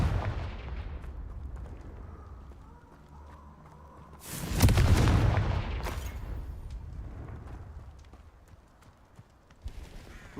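A Confringo blasting spell explodes in Hogwarts Legacy, one loud rumbling burst in the middle that slowly dies away over quiet ambient game sound, with a faint sharp crack near the end.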